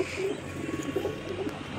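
Short run of low, soft cooing from a pair of Madrasi pigeons, male and female, heard close over a constant background hum.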